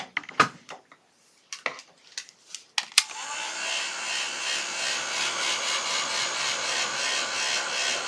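A hair dryer dries acrylic paint. A few sharp handling knocks come first, then the dryer starts and blows in a loud, steady, close rush that carries on to the end.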